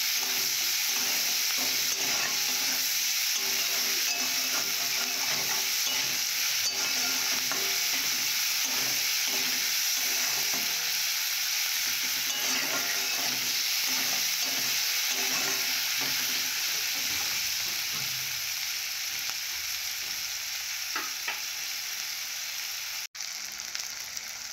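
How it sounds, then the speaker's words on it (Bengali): Onions with a little salt frying in oil in a kadai, with a steady continuous sizzle and occasional stirring scrapes throughout, close and fairly loud, with no talking. "পেঁয়াজ দেব কড়াতে, অল্প করে লবণ দেব"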